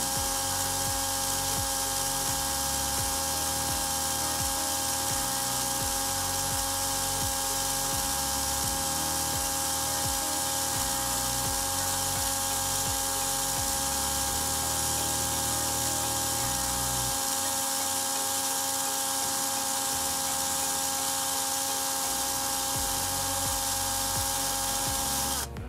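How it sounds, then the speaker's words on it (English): A small power drill whines steadily and closely for a long stretch as its bit drills into a diecast 1969 Ford Torino Talladega model, its pitch wavering as it bites into material, with no talking. "So I can just take this really slow and let the drill bit do the work."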